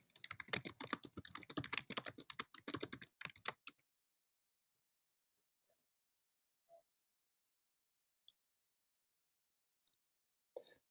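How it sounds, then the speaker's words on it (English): Rapid, close keyboard typing on a computer keyboard for about four seconds, then near silence broken by a few faint isolated clicks. "Let me type this in."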